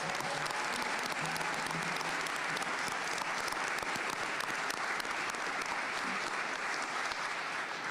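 Crowd at a mayoral swearing-in ceremony in Oakland applauding council members, sustained dense clapping at steady volume throughout.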